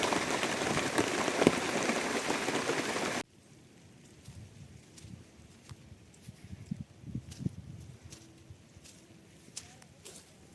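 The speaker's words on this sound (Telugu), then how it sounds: "చూడండి ఫ్రెండ్స్, వాన ఎట్లా పడుతుందో" Rain falls in a steady, fairly loud wash for the first few seconds, then drops away abruptly to faint scattered drips and soft knocks.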